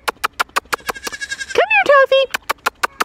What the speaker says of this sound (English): She's Sophie's show goat.